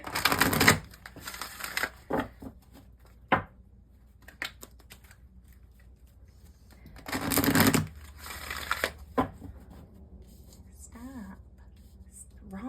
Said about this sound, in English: So what we're going to do is shuffle, because I forgot to shuffle these.